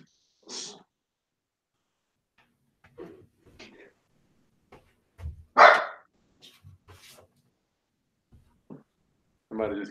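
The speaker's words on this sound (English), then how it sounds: "Somebody just came to the door to drop some mail off, so my dog goes crazy." Pet dog barking excitedly at someone dropping off mail at the door, a few sharp close barks and yelps spaced irregularly, with someone speaking briefly in between.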